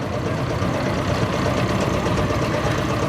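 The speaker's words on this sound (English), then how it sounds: "it's a D2016, which has got a 20 horsepower single cylinder diesel engine, made in 1957" Lanz Bulldog D2016 tractor from 1957 with a 20 horsepower single cylinder diesel engine idling at a vintage show ring, a steady loud thumping drone with no break.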